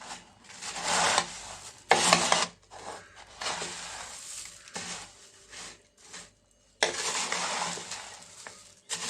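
Puffed rice chaat with roasted peanuts and chili powder is tossed in a bowl, giving loud dry rustling, raspy bursts separated by brief pauses.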